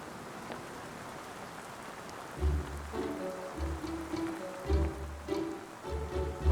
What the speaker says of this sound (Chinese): 没想到今天会下雨啊！